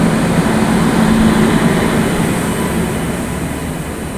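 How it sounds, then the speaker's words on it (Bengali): A passenger train hauled by a Howrah shed WAP-5 electric locomotive rumbles steadily and loudly nearby at a Bolpur station, a continuous broadband roar with low hum holding throughout. "আজকে কিন্তু আমাদের ট্রেনের সঙ্গে দিয়েছে হাওড়া কার্শেডের ওয়েব 5 লোকোমোটিভ।"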